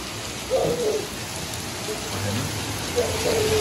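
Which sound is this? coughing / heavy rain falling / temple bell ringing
heavy rain falling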